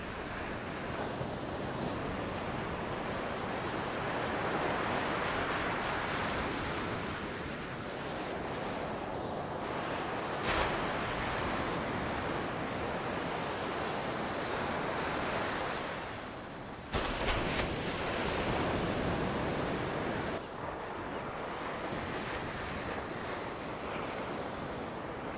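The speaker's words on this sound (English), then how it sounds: "I want to show you guys the beach." Ocean waves at a beach roll in a continuous broad wash of surf, heavily mixed with wind buffeting the microphone, with a few brief bumps and no voices.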